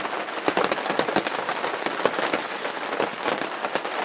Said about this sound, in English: it's pouring rain outside and it's lightning and thundering like crazy.